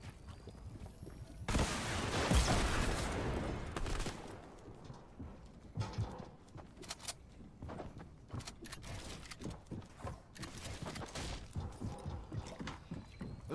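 Gunfire in Fortnite: a dense burst of shots erupts early, then scattered sharp cracks and pops follow at moderate volume, with no talking.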